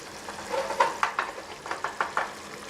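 Mapo tofu sauce bubbles and sizzles in a pan, with a series of soft, rhythmic scraping strokes as it is stirred.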